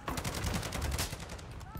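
Rapid automatic gunfire in the online shooter DMZ, a dense, loud burst of shots tearing down a sentry gun, firing continuously from start to finish.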